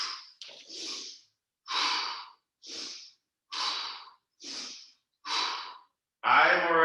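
Rhythmic loud breaths, several strong exhales and inhales in a steady cycle, during a wide-footed squat kriya yoga exercise with arm movements, ending in a voiced breathy sound.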